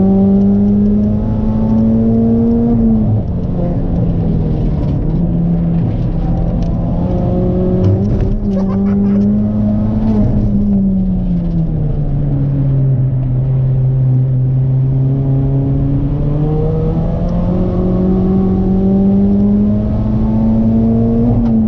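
A Stage 3 tuned Ford Fiesta ST180 laps the Brands Hatch circuit, its engine droning loud and close from inside the car, with revs swelling and dropping through gear changes and corners.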